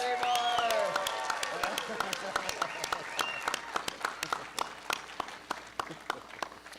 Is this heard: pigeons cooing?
no